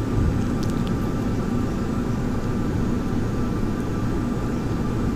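Steady roaring jet engine drone of an A-10A aircraft in a flight simulator game during a stall, continuous and loud with no change in rhythm.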